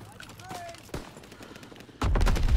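Aircraft strafing-run gunfire in Call of Duty WWII, heard as scattered gunshot bursts that swell into a dense, loud roar of rapid fire in the final half second, over steady battle noise.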